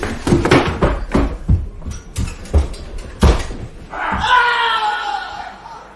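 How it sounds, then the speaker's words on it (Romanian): In a Romanian comedy radio play aboard a ship, a run of sharp knocks and thumps gives way to a loud, sustained scream that lasts about two seconds. "Cine a țipat?"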